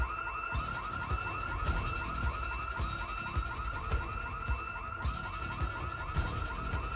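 An alarm blaring in the zombie survival game Project Zomboid; a continuous warbling electronic tone repeating in rapid steady cycles, with intermittent thuds and impact sounds underneath.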